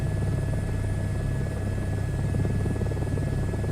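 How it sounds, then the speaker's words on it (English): A helicopter in Microsoft Flight Simulator 2024 gives a loud, steady rotor and turbine drone that stays constant and close throughout, with a faint high whine above it. "so I try to fly the helicopters in this because not many people seem to do"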